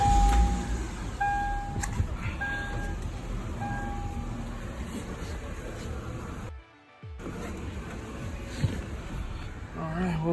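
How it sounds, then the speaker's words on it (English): A Lexus IS300 being fitted with a new oxygen sensor runs at a low steady idle, with a brief dropout partway through, faint clicks and a few tonal beeps over the hum. "Start the car."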